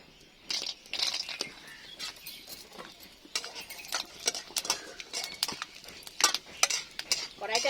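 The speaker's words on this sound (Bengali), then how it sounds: "বাদামগুলো ভেজে নিচ্ছি" Peanuts frying in hot oil in a wok for a Bengali cabbage dish, with dense clinking and scraping of a spatula against the pan in irregular bursts, close and fairly loud, no talking.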